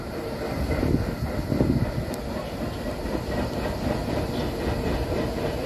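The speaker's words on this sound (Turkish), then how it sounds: "Varda Köprüsü'nde yük treni geçiyor." A freight train rumbles steadily across the old Varda Bridge in Adana, a continuous loud roar with faint rhythmic rail clatter, no voices over it.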